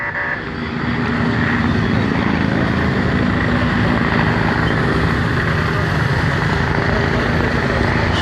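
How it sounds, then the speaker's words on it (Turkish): Loud, steady rumble of a police helicopter's rotors and engine overhead in İzmir, a constant dense roar with no pauses. "Şu an helikopterler, polis helikopterleri burada dolanıyor"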